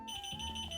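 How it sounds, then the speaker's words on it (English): An electronic alarm emits a steady, shrill tone with rapid pulsing, close and continuous for under a second with no talking. "Something's beeping."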